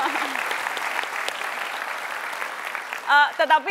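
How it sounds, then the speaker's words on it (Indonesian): Studio audience applause at a televised Jakarta talk show, a steady wash of clapping that fills most of the moment, then a voice speaks briefly near the end. "kita kasih tepuk tangan Eyang Habibie."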